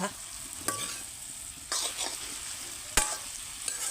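Potato and carrot stir-fry sizzles softly in a pan as a lid is lifted, with a steady low frying hiss punctuated by a few sharp clanks and scraping stirs.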